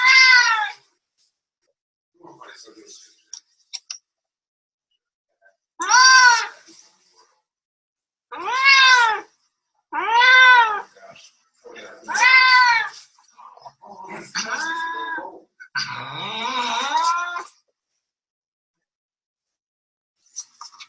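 An unhappy, aggressive shelter cat gives a run of loud, drawn-out meows, roughly seven separate cries spaced a second or two apart, some rising into a strained caterwaul, with near silence between them.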